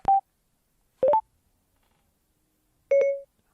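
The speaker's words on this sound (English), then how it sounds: "Waiting for that tone, that doo-doo, is one of the most important tips you can remember" Phone voice assistant activation tones on a Cardo Spirit intercom: three short, clean electronic beeps separated by pauses, the last one slightly longer, with no talking.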